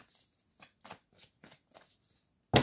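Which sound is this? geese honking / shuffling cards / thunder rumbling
shuffling cards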